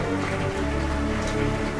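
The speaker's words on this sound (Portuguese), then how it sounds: "Caramba, tá chovendo muito" Heavy rain in the video game Super Metroid, a dense, steady hiss of falling water over a low droning music bed, continuous and with no speech.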